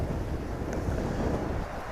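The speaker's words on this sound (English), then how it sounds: "It's a very windy day here at the airport, so I apologize for all the noise." Strong gusting wind buffets an outdoor microphone at DFW airport, producing a loud, continuous low rumble and roar with no other clear sounds.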